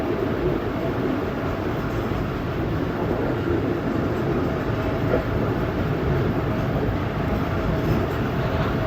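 The Tezgam 8 Down passenger train runs along the line toward Gujar Khan station, a continuous loud rumble of wheels and carriages heard from on board, steady throughout with no speech.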